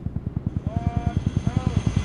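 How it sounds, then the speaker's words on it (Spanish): A helicopter in the video game Conflict Desert Storm 2 thumps with a fast, steady rotor beat, loud and close, with faint higher tones drifting over it. "Qué guapo, tío, los helicópteros ahí."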